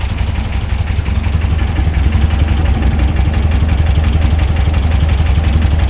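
A 1964 VW Beetle engine with dual EMPI carburetors idles steadily throughout, a low, even rumble with a rapid regular pulse, close and fairly loud, with no voices.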